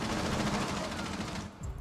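Rapid automatic gunfire from a video game, shooting through a wall, a dense, continuous rattle of shots at moderate loudness that tapers off near the end, with no talk.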